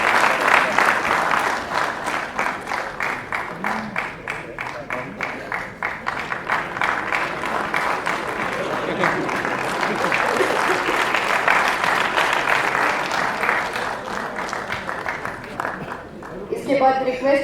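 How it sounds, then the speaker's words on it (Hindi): Sustained audience applause at a Chandigarh Municipal Corporation ceremony honouring housekeeping workers and a chief guest, steady dense clapping for most of the stretch with voices mixed in, tapering slightly near the end. "कृपया तालियों की गूंज बनाए रखें"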